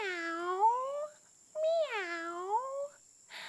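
Cat meowing in a children's yoga story, two long drawn-out wavering meows heard clearly and alone, separated by a short pause.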